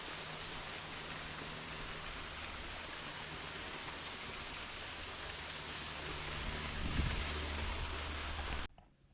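Waterfall at Rainbow Springs, Florida, heard as a steady, broadband rushing of falling water, close and continuous, swelling slightly louder before cutting off abruptly.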